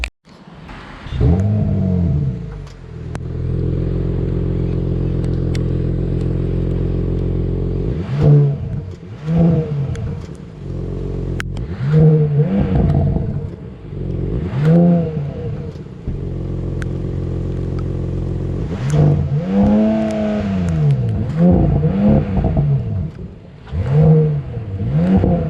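A 2025 Audi S5 engine and exhaust idle in a low, steady rumble, then several short throttle blips rise and fall in quick succession, each revving up sharply before settling back to idle, loud and close.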